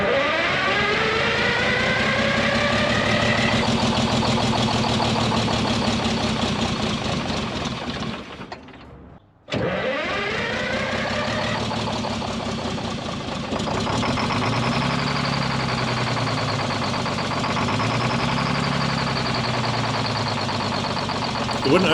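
The engine of a White Road Xpeditor truck, parked since 1996, runs rough and loud, revving up and sagging, cutting out briefly, then restarting and surging unevenly as the throttle is worked.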